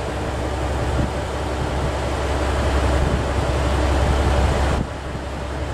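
An Ibara Railway train pulls away from the station, a loud, steady, broadband rumble of the railcar filling the whole clip, easing off slightly near the end.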